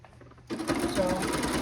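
A sewing machine starts after a short quiet moment and runs in a fast, even, continuous stitching whir close by while sewing a self-binding XL casserole potholder.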